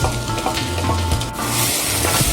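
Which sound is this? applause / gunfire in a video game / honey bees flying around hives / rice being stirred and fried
rice being stirred and fried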